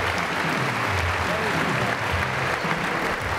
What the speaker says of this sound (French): Et les applaudissements.